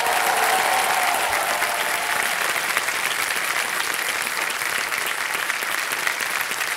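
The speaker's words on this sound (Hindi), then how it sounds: "तालियां बजती रहे।" Sustained applause from a large studio audience on the Kaun Banega Crorepati game show, a dense, even clatter of clapping that carries on steadily from start to finish without a break.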